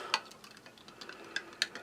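A spoon stirs a Norwegian Army arctic field ration drink mix in a glass of water, giving sparse, light clinks against the glass with soft swishing between them.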